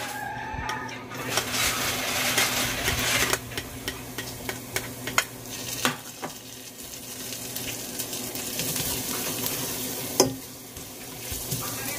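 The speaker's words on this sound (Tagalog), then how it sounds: "Lagay na po natin ang garlic at onion sa mainit na mantika." Garlic and onion sizzle in hot oil in a home kitchen, a steady frying hiss with occasional sharp clinks and stirring scrapes from a utensil, heard close and without talk.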